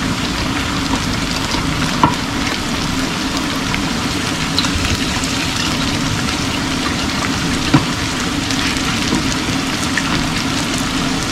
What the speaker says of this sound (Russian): Сейчас буду сюда печенку класть.